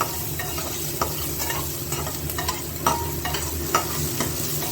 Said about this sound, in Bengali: আদার কাঁচা গন্ধটা একটু যাক, নাড়িয়ে চালিয়ে নিই।